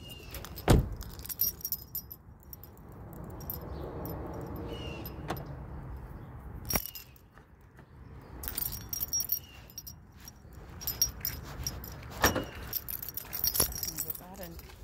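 Keys jangle repeatedly in sharp metallic bursts near a car, with a loud clatter near the start and more bursts throughout, alongside handling noise and some speech.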